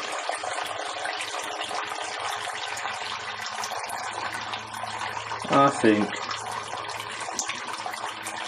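Liquid runs steadily from a tap during witbier homebrewing, a continuous close hiss of flowing liquid with a brief spoken remark partway through.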